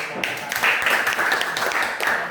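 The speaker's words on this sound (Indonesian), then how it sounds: "Tepuk tangan dulu" Students clapping together in a classroom after a group discussion session, a brisk burst of hand claps that swells and dips a little while staying close and fairly loud throughout.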